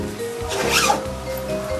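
A zipper zipped in one quick, close pull, a brief rasping zip rising and fading within about a second over a steady low background.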